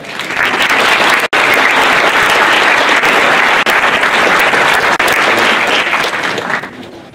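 Sustained, loud audience applause fills a conference hall as a keynote speaker is welcomed at the NewSpace 2017 event in Seattle, a dense steady clapping wash that fades slightly at the end.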